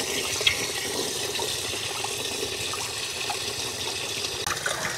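Water pouring steadily into a bucket, a continuous splashing and trickling at close range with no one talking.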